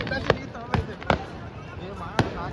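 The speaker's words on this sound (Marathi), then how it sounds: "बघू शकता तुम्ही फटाके वगैरे उडवत आहेत" Four sharp firecracker bangs go off at irregular intervals at a Shiv Jayanti celebration in Solapur, fairly close, over a busy background of crowd noise and voices.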